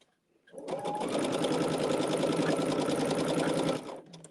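A sewing machine stitches fabric pieces in one steady, fast run of needle strokes, starting after a short pause and stopping just before the end, close and clear with no talk over it.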